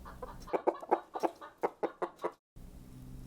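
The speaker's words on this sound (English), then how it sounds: "Chicken," A chicken clucks in a quick series of about ten short, sharp, close notes, ending abruptly before a brief stretch of low background hum.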